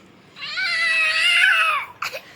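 A human voice imitates a cat, giving one long, drawn-out wavering meow up close, followed by a brief shorter squeak at the end.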